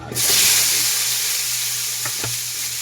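Chili, tomato and onion sauté in a hot pan with a loud, steady sizzle that starts abruptly, broken by a couple of light stirring clinks near the end.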